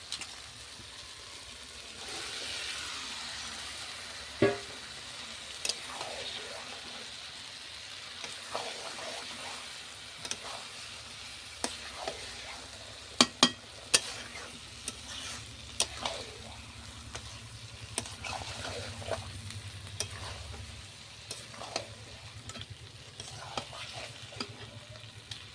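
Marinated desi chicken frying in spice paste in a pan, a quiet steady sizzle under intermittent stirring scrapes and occasional sharp utensil knocks, fairly soft and close.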